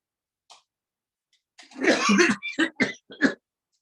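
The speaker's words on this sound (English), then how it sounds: "Breathe once more, breathe in and cough." A burst of several forceful coughs, one long hacking cough followed by three or four short sharp ones in quick succession, close and loud, done deliberately as a breathing exercise.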